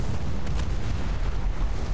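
Naval cannons firing during a War Thunder sea battle, heard as a dense, continuous low rumble of blasts and booms that stays loud throughout, with a couple of sharper reports standing out midway and no voices.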